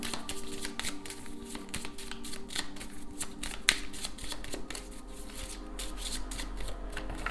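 Tarot cards being shuffled by hand, a close, continuous rapid riffling and flicking with a sharp snap partway through.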